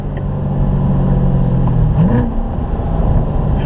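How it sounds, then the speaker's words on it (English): Close, loud engine drone of a Corvette on a race track as it slows and turns in, steady rumble with a slight pitch sweep as the revs shift. "Alright, slowing the car down, looking ahead, and turn in now"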